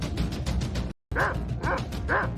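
A dog gives repeated short barks and yips close by, in a quick rhythmic series with a brief gap.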